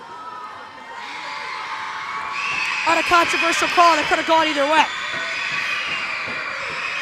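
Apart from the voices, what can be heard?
basketball crowd cheering loudly in a gym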